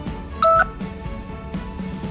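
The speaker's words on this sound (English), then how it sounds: "let me just silence my phone." A mobile phone gives a single brief electronic beep, a short tonal chirp near the start over quiet room noise with paper rustling faintly.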